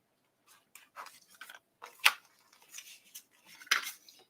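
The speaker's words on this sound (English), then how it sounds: "What are you chewing on?" Close, quiet chewing comes as a series of small crunching and smacking bursts at an irregular rhythm, with two sharper crunches standing out against near silence.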